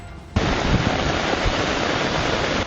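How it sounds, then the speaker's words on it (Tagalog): Floodwater surges through a town in Santiago during a typhoon, a loud, dense rushing roar that starts abruptly and holds steady, with low thuds and churning beneath it. "Umaalon ang baha sa bayan ng Santiago kaya dahan-dahan ang pag-usad ng mga sasakyan."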